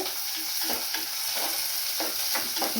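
Fish curry being stirred in a pan with green chillies, a steady frying sizzle underneath and a spoon scraping in soft repeated strokes about every half second, close and alone with no talk.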